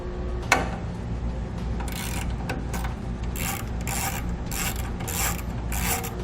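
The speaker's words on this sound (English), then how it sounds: "you're going to want to grab a socket or a wrench to take the 2 nuts off the back end" A socket wrench removes nuts from the studs of a trailer tail light: quick, repeated ratcheting clicks in short bursts, close and clear, with a sharp tap near the start.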